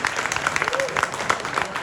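An audience applauding at a talk with comics writer Peter Milligan in a Madrid venue, a short burst of dense clapping that sounds close and full.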